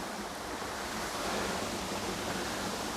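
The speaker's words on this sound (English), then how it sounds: "Right, so I think this is the Black Brook" Black Brook, a stream beside the site of a mill, flows in a steady, close broadband rush of water that holds an even level throughout, with no voices over it.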